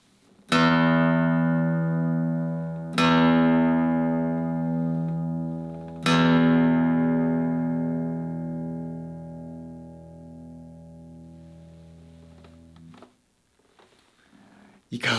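Three low bass notes are plucked on a 2005 TSK K-3 acoustic guitar, a small-bodied collaboration model, each ringing out long and full before fading, close and loud, with a brief sound at the end.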